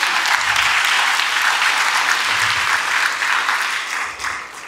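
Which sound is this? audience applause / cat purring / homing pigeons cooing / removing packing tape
audience applause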